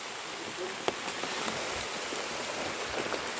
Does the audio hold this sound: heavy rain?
yes